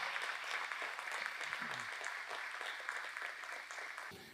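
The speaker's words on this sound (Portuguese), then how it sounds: "Aplauda aí o nosso Deus," Church congregation clapping during a Portuguese-language worship service, a fairly quiet, steady patter of applause heard from some distance, holding throughout with a faint low tone briefly underneath.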